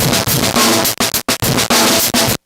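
Drum loop fed through an STG Soundlabs .com frequency divider pedal, heard from the direct output as a dense, loud, fuzzy wall of sound with brief choppy gaps and near-constant sustain.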